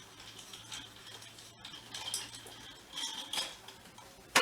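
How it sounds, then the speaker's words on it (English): A spoon stirs iced latte in a glass, giving soft, scattered clinks and taps against the sides, faint and close, ending with one sharper chink. "Grab yourself a spoon, a straw, whatever you have, and just give that a stir around."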